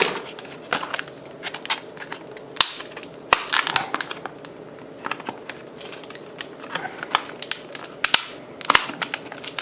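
Tight cardboard and plastic packaging for a Sun Joe battery is torn and crinkled open, with sharp irregular rips, snaps and rustles close by and no talk.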